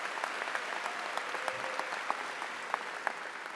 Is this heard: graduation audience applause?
yes